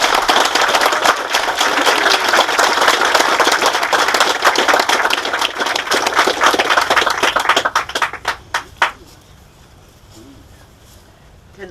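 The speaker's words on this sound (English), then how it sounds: "And if I can get everyone to give Colin a round of applause." Crowd applause at the formal opening of the Christchurch 360 Trail, dense and steady for about eight seconds before thinning to a few scattered final claps and quiet.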